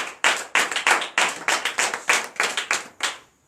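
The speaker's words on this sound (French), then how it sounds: "Donnez l'acclamation à Seigneur Jésus." A church congregation at a night prayer service in Benin claps in rapid, uneven bursts, close and lively, the rhythm irregular before it stops.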